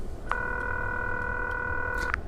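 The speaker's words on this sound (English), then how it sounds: "A payphone. You need a quarter to make a call." A payphone gives one steady electronic dialing tone lasting about two seconds, clear and alone over a low background hum.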